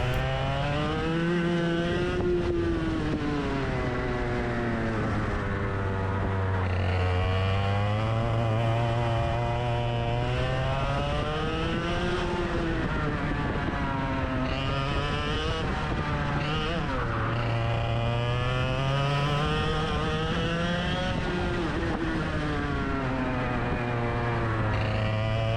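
Racing kart engine on a large track, a high, buzzing engine note that climbs and drops repeatedly as it accelerates and lifts through corners, loud and close throughout.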